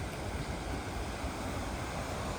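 Big Haynes Creek flows steadily at Costley Mill Park near a falls, giving a soft, even rushing wash of water that holds at the same level throughout without any voices.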